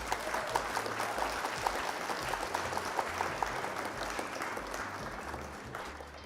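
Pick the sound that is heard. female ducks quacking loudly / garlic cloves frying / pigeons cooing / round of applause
round of applause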